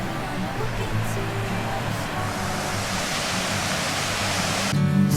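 A steady, broad rush of falling water at Silver River Falls in Michigan fills the clip, constant and moderately loud, with a faint low rumble underneath.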